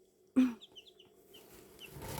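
Hens cluck and chicks peep among a farmyard flock of mixed-breed chickens, some newly hatched and crested, with one loud close cluck followed by scattered soft high cheeps.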